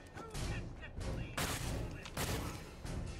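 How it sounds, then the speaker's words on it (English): Gunfire crackles in Fallout 4 during the Nuka World area, several bursts of shots in quick succession, fairly close and sharp, with thuds between them. "I'm hearing shooting."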